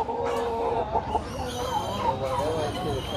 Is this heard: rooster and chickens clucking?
yes